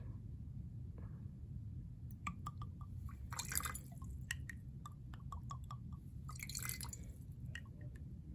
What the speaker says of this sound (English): Gonna rinse the cuvette.